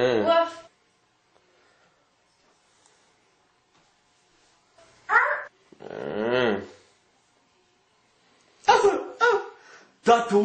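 A voice imitates a dog barking, giving short bursts of arfs and woofs separated by long silent gaps, close and loud, as part of a comedic parody song.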